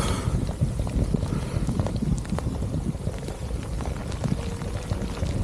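Heavy rain pouring down during a bicycle tour through Europe, a constant dense patter mixed with gusty wind buffeting the microphone, loud and close with no one talking.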